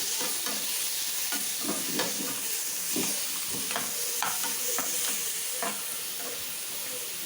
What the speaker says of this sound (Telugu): ఇవన్నీ వేసేసుకొని జస్ట్ లిటిల్ బిట్ ఫ్రై చేసుకుందాం